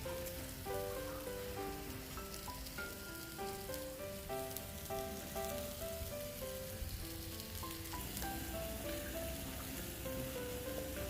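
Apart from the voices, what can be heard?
pork belly sizzling on a grill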